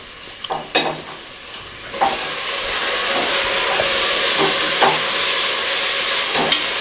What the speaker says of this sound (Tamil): அடிப்பிடிக்காத அளவுக்கு நல்லா கிண்டி விடணும்.